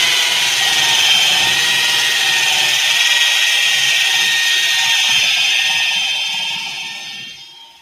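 A power tool with a spin-on, reverse-threaded attachment whines loudly and steadily while working on etched stone, a high continuous buzz with faint grinding beneath, then winding down at the end.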